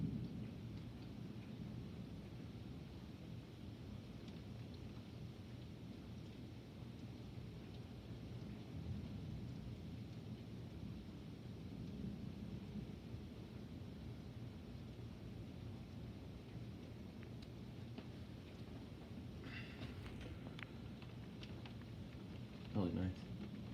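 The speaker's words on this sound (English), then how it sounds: "this is a lightning storm right here now" Early-morning summer thunderstorm with steady rain and gusty wind, a continuous low rumbling wash of rain throughout, with a brief sharper crackle near the end and a voice talking quietly over it.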